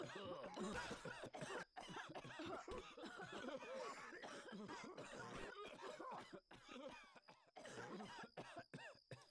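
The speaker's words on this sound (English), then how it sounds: "That smoker cough." Harsh, raspy coughing fits repeat in quick bursts, close and loud, mixed with throat clearing and a bit of chuckling.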